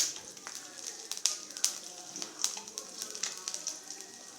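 Ginger and garlic sizzle in hot oil for Tamil-style egg poriyal, a steady close crackle broken by sharp popping spatters, with no talking.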